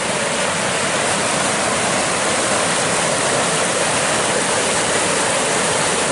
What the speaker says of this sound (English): And look at this waterfall that's right by the camp.